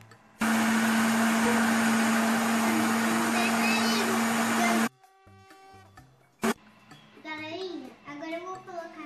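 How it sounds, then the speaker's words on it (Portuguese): A kitchen blender mixing bread dough ingredients roars loudly and steadily for about four seconds, then stops, followed by a short clunk and a person talking. "Agora eu vou ligar o liquidificador"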